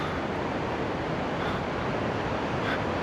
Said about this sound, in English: it's certainly splashing up well against that harbour wall